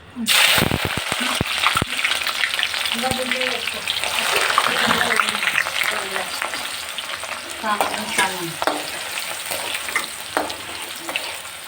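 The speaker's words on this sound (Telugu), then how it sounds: "ఆయిల్ అయితే వేడి అవ్వాలి అయితే బ్రౌన్ ఆనియన్స్ లాగా వేపుకోవాలి" Sliced onions frying in hot oil for chicken biryani give a loud, steady sizzle with stirring scrapes throughout, while a voice talks quietly underneath.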